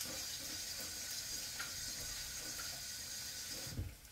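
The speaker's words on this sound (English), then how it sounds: "Wash my hands." Kitchen tap water runs steadily into a sink while hands are washed, a constant close hiss with faint splashes and a small clunk near the end, no voices.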